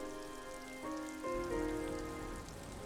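Rain patters softly in the video game Disco Elysium, a faint, steady wash heard beneath a sustained musical tone, with no one speaking.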